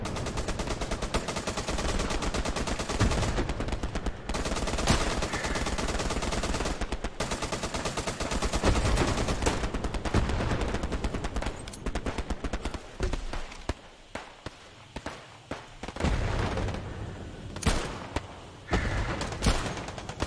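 Gunfire in the WWII shooter game Hell Let Loose: dense, loud bursts of rifle and machine-gun fire that thin into scattered single shots and distant pops toward the end.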